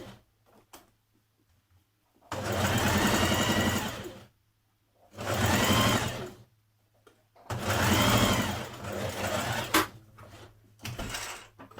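A sewing machine stitches a trouser fly facing in four distinct bursts of fast, close whirring, separated by quiet pauses with faint handling sounds.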